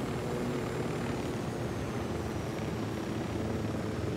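Steady, loud rotor and engine drone of helicopters in the video game Ghost Recon Wildlands fills the whole stretch, a dense mechanical roar with no voices.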